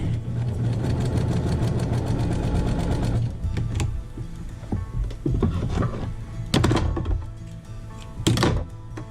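Sewing machine stitching back and forth on a Dresden plate table runner: a fast, steady mechanical whir for about three seconds, then short stop-start bursts with thunks and pauses, close and fairly loud.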